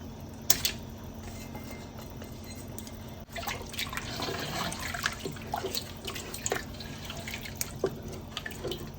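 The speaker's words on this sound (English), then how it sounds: "I'm going to add about 1 cup to this pot" Organic Thai coconut milk poured into a stainless steel pot, a steady liquid trickle and drip with a low background hum, moderately loud and close, no talking.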